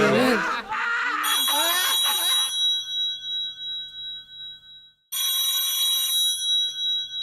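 A telephone rings with bright, repeated bell-like trills in two bursts separated by a short silence, loud and close, with a voice speaking briefly at the start over the first ring.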